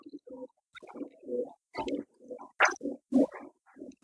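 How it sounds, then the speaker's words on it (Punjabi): Flying pigeons coo close by in a steady series of low, throaty calls with short pauses between them. "ਇਹ ਉੱਡਣ ਵਾਲੇ ਕਬੂਤਰ ਆ ਬਾਈ"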